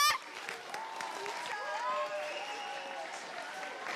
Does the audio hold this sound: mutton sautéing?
no